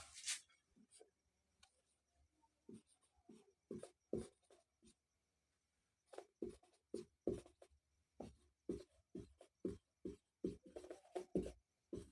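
Chalk or a pen writes on a board during a maths lesson, with sparse strokes at first and then a busier run of short scratchy taps, close and faint in an otherwise quiet room.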